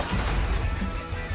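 Loud, dense crunching and grinding fill the air as a car slams into another at about 60 mph during a demolition derby, a continuous harsh smash with no pause.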